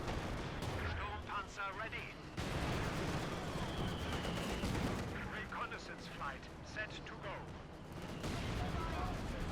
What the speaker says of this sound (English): MG opening fire on them, driving the enemy back